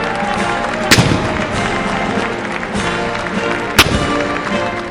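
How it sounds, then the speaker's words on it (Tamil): Ceremonial cannon salute fired at a U.S. presidential inauguration, two sharp booming reports a few seconds apart, loud over a steady crowd and ambient roar. "அமெரிக்க அதிபராக ட்ரம்ப் பதவியேற்றுக் கொண்டதைத் தொடர்ந்து பீரங்கி குண்டுகள் முழக்கம் செய்யப்பட்டன."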